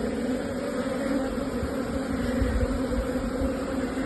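Honeybees hum and buzz in a thick, steady drone, close and continuous, like many insects swarming around a hive.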